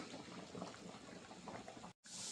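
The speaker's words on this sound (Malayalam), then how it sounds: "അപ്പോൾ നന്നായിട്ട് തിളച്ച് വറ്റട്ടെ" A thick roasted-coconut stingray curry bubbles and simmers steadily close by, a soft continuous gurgle, briefly cut off near the end.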